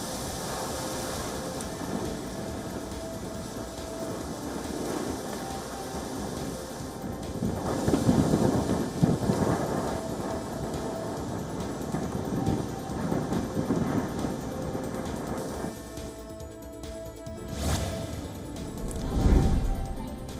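Thunderstorm with heavy rain in California: a steady broadband wash of rain and gusting wind buffets the microphone while deep rumbles of thunder roll in, swelling mid-clip and again near the end, with no voices.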